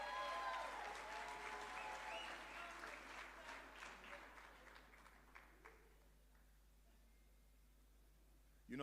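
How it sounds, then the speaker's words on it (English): Audience applause at a future-of-work conference session, a dense burst of clapping that gradually thins out and fades to near silence near the end. "Can we give her another round of applause,"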